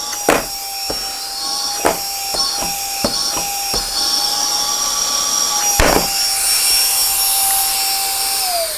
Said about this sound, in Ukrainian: компактний автомобільний пилосос для локального ситуативного прибирання